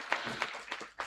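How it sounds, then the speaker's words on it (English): A few sparse hand claps from an audience at a university orientation programme, four distinct thin claps spaced roughly evenly and faint, with no voices. "let's have a big round of applause for them"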